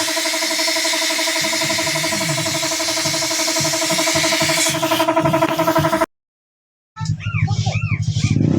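A Honda Beat scooter engine idles steadily after being repaired, a close, continuous mechanical drone that cuts out briefly and then resumes.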